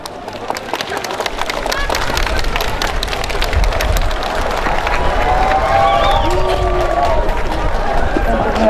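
Applause and cheering from a crowd at a school opening ceremony on the first day of school, a dense, loud roll of clapping that swells and holds, with voices and whoops rising over it.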